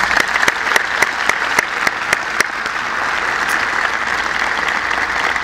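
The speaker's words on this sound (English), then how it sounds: "I want to give them a round of applause" Enthusiastic applause from an audience, loud and sustained, with a few sharp individual claps standing out near the start.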